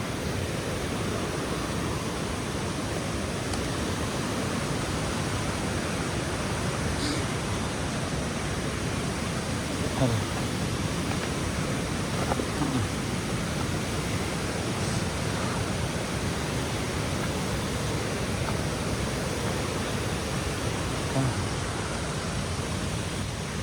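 A river flows past in a steady, dense wash of rushing water, loud and close, holding constant throughout with no voices.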